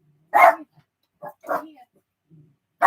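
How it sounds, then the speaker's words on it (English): Dogs on a boat bark at people walking past, giving a few sharp, close barks separated by short silences, with someone briefly speaking among them. "So, sorry about the dogs."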